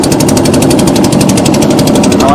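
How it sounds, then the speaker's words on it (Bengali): A loud, steady speedboat engine drones with a rapid pulsing rhythm, close by and continuous, on a river at the India–Bangladesh border. "পিছনে হচ্ছে স্পিড বোর্ড"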